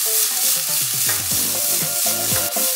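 Olives fry in a hot pan with rosemary, giving a steady, close sizzle and crackle that runs unbroken through the whole stretch, with no talking.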